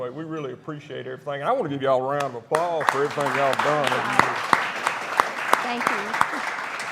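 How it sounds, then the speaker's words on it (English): An audience at a sports coaches' show applauds steadily, clapping close and continuous with sharp individual claps standing out, following a short spoken thanks at the start. "I want to give y'all a round of applause for everything y'all have done over the years."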